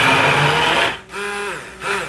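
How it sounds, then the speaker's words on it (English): An immersion blender purees corn with cream and butter, giving a loud close whir that dips briefly and then resumes in uneven pulses as the blade works through the mixture. "And in goes my immersion blender, and here comes a puree."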